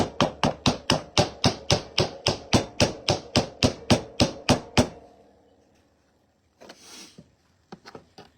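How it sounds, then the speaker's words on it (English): A hammer pounding wood to give it an aged look for a bunny craft, with about sixteen sharp, evenly spaced blows close up, followed by a quiet pause and a few faint clatters and knocks. "I'm going to hammer up the wood too,"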